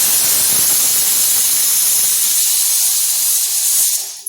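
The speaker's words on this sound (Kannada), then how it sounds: "ಅಷ್ಟರಲ್ಲಿ ಕುಕ್ಕರ್ ಕೂಗ್ತಾ ಇದೆ ನಿಮಗೆ ಶಬ್ದ ಕೇಳಿಸ್ತಾ ಇರ್ಬೋದು" A pressure cooker releases a loud, continuous hissing whistle of steam that holds steady for several seconds before cutting off abruptly.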